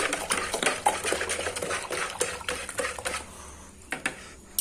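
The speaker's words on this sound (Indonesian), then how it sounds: "aduk-aduk kembali, pastikan larut karena Abamectin itu ada kandungan minyaknya ya" Dark abamectin pesticide mixed into water for treating thrips on chili plants, a utensil clinking and scraping against the container in rapid, busy strokes close by, with no talk.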